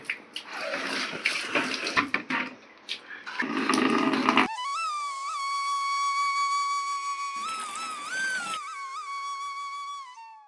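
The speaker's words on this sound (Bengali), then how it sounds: "জলটাও ভরতে হবে" Tap water runs into a container in a home kitchen for about four seconds, followed by a loud, wavering tonal whistle that carries on alone to the end.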